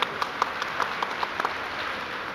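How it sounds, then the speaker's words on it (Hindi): An audience at a televised business talk event claps in scattered, fairly steady applause, individual claps standing out over a soft hiss of room noise. "एक बार फिर से उसके लिए भी तालियां बनती है"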